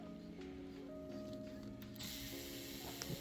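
Ratchet wrench clicking on a 14 mm brake caliper bolt during rear brake work on a Chevy Trailblazer, a quiet run of steady pawl clicks close by, with a brief louder scrape near the end.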